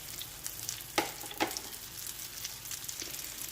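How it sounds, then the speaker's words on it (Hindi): Bun kabab patties fry in a pan, making a faint, steady sizzle with a couple of light utensil taps, and no voices. "अब हम इसे फ्राई कर रहे हैं"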